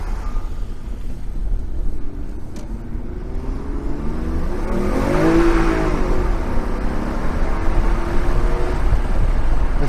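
A 1991 Toyota Soarer 2.5GT-T twin turbo on an automatic in power mode accelerates hard with its tyres spinning, the engine note climbing and swelling loud midway, then holding a steady roar under road rumble.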